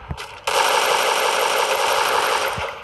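Automatic gunfire in the battle-royale game Free Fire, a dense, loud, sustained rattling burst lasting over two seconds after a brief shorter volley at the start.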